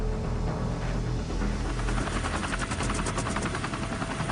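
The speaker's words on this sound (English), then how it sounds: "Chinook helicopters are drafted in to dump water from the air." Chinook helicopters fly over the damaged Fukushima nuclear plant while dumping water from the air, their rotors producing a steady, dense rhythmic thudding throughout, loud and continuous with no voices.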